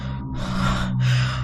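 A man's panting gasp in a Hindi horror audio story, one drawn-out breathy intake and exhale followed by a second heavy gasp, close and alone with no speech over it.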